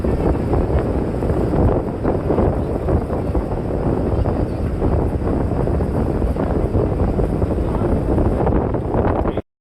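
A boat travels on the Saptamukhi river in the Sundarbans delta, its continuous loud engine drone mixed with rushing wind and water, unbroken for the whole stretch before cutting off abruptly.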